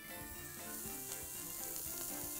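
Sausage fries with onions in a pan, a dense, continuous, even sizzle heard close up and alone, with no voices.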